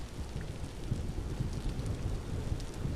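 Steady rain from a Vintage Story video game storm, a dense continuous hiss with low rumbling beneath, moderately quiet and unbroken, with no voices.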